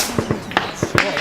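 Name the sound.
sniper gunfire near Donetsk airport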